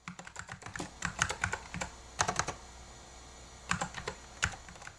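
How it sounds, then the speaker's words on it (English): Typing on an old beige desktop computer keyboard, close and fairly quiet, with quick bursts of clicking keystrokes separated by short pauses. "The computer I'm typing this on, it's an absolute beast"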